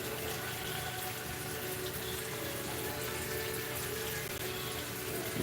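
Hot water runs from a kitchen tap during a cooking session, filling a pot to boil potatoes: a continuous, even hiss and splatter of flowing water that holds steady throughout with no talk over it.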